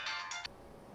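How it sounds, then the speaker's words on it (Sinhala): An incoming-call phone ringtone sounds loudly in two quick bright bursts, then cuts off into a low room hush. "මේ කෝල් එකක් තියෙනවා"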